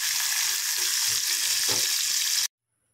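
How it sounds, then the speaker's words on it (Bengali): Prawns frying in hot oil in a kadai with dried red chillies, green chillies and garlic give a loud, steady, close sizzle with faint stirring underneath, then cut off abruptly. "কড়াতে তেল গরম করে তাতে শুকনো লঙ্কা, কাঁচা লঙ্কা আর রসুনগুলো দিয়ে একটু ভাজা ভাজা করে নিচ্ছি।"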